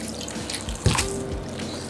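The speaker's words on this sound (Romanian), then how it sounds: "Acum, progresiv, adăugăm puțină apă rece." Cold water is poured gradually into minced pork for traditional sausages, giving a few faint drips and a brief splashing trickle, with one sharper splash near the middle against quiet kitchen background.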